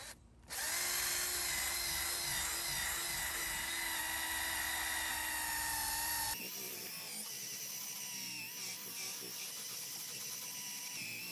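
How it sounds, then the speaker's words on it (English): A drill spinning a brush to polish glass, with a steady, loud, high-pitched whine running close up. Partway through, the tone shifts to a rougher, lower-level buzz. "a drill with the brush and headlight restoration"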